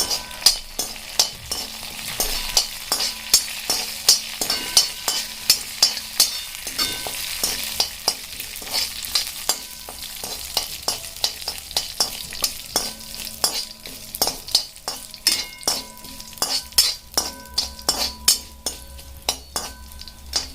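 Country chicken curry masala with green peas roasting in a pan, stirred continuously with a spoon that scrapes and clinks in a quick regular rhythm over a steady sizzle, close and fairly loud, without speech.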